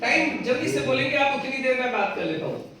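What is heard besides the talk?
No distinct noise like a dog, phone or traffic.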